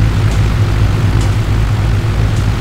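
Steady propeller aircraft engine drone in X-Plane 10 on a Boeing Country addon flight, a constant loud low hum with even tone throughout, no voices.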